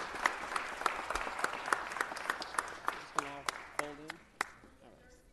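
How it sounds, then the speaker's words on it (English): A sparse council-chamber audience claps in distinct, separate hits at a city council meeting honoring a retiring police chief, the claps soft and spaced, while someone speaks briefly over them. "Just one more round of applause."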